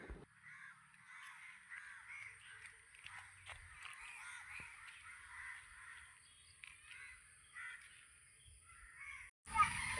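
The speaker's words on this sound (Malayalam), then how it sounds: "കാക്കയോ മോൻ കണ്ടോ?" A crow caws repeatedly outdoors at a moderate distance, the harsh calls recurring through the clip over a quiet background, with a brief louder bump at the end.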